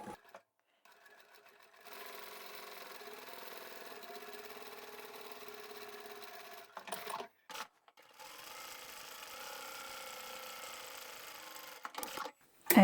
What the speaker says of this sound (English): We're going to take this to the machine as well now, and we'll sew along those two edges there.